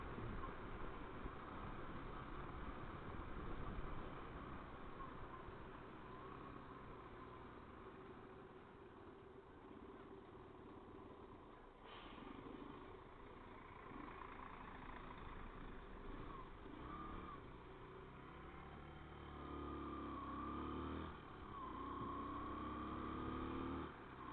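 A motorcycle engine hums steadily while riding near ruins in a valley, a low continuous drone that rises and falls in level over its whole length with no voices on top.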